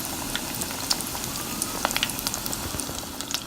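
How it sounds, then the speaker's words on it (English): Breaded jalapeño poppers fry in oil over medium heat with a constant bubbling hiss, dotted with fine crackling pops throughout. "You have this on a medium heat, and we're just gonna continue to fry."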